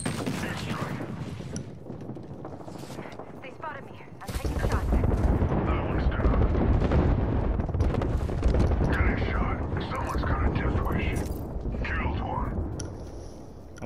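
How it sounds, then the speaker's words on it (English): Airstrike explosions in Apex Legends, a dense barrage of booming blasts and crackling impacts that erupts abruptly and rolls on loudly for several seconds, mixed with gunfire and game effects. "They got an airstrike on me."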